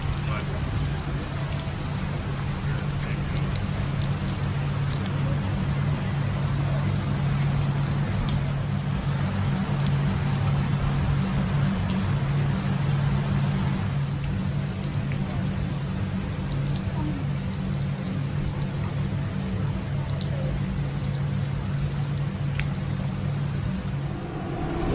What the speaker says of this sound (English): I am standing here in the rain.